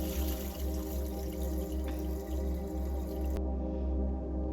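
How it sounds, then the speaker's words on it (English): Rice being rinsed in water in a kitchen before cooking, with steady running and dripping water splashing continuously at close range, no talking. "First thing you want to do is always wash your rice thoroughly"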